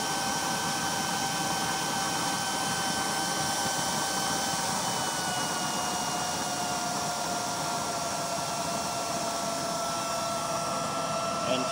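A waste oil burner with a 24-hole nozzle and 3-inch chamber, fed a mix of motor oil and used cooking oil, roars steadily during a fire test, a loud continuous broadband rush with a faint hum and no pauses.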